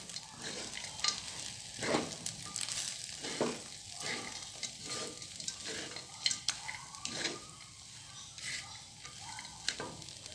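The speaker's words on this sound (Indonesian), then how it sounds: "Kita aduk hingga semua tercampur dengan baik." A spoon stirs a Bugis beef gore-gore mixture in a pan after the heat is turned off. The scrapes and clinks come in an uneven rhythm over a light sizzle, close and moderately quiet.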